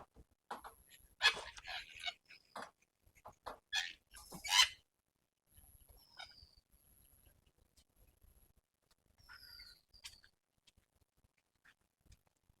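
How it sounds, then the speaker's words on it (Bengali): Birds call in Bethuadahari forest near Kolkata: sparse, faint high chirps and squawks scattered over a quiet background, with a few louder bursts early on and thinner twitters later. "মানে পাখির ডাক অনেক শোনা যাচ্ছে।"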